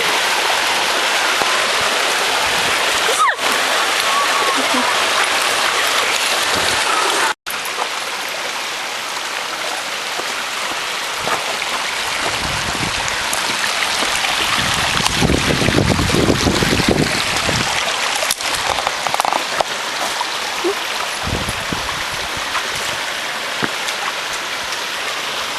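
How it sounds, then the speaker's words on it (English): Waterfall on a hiking trail, a continuous broadband rush of falling water lasting throughout at steady moderate loudness, with brief wind buffets and a couple of sharp handling clicks. "That is the coolest waterfall I've ever seen"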